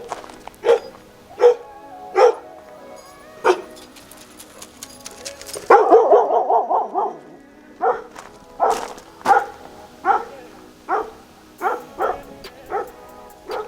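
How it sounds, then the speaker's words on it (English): A dog barks repeatedly near a car being prepped for paint, with single sharp barks spaced a second or so apart and a quicker run of yips in the middle, loud and close. "Literally barking at nothing."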